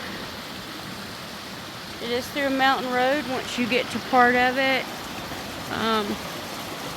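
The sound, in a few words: waterfall near Paint Creek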